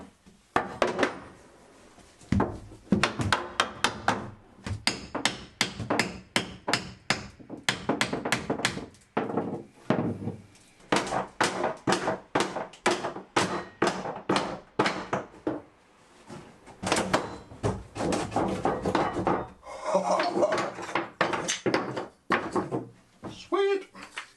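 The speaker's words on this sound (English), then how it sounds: "this time I've got some wedges, so I'm going to see if I can wedge it out" Wooden wedges hammered in to free a stuck boat make rapid, sharp knocking strikes in irregular bursts, loud and close, with pauses between runs of blows and someone talking at times.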